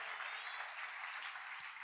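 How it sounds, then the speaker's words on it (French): A church congregation applauding during a worship service, a faint, steady, even patter of many hands that stays level and distant from start to finish. "Est-ce qu'on peut encore applaudir le Seigneur?"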